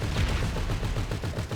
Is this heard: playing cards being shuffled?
no